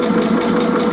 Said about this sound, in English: now I'm just sewing right back down this side